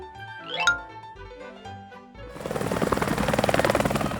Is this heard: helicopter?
yes